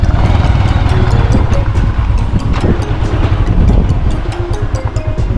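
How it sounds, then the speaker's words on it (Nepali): A motorbike ridden on a steep, dangerous mountain road, its engine droning steadily and loud throughout with rough, uneven rumbling close by and no talk. "अब म चलाउँछु बाइक"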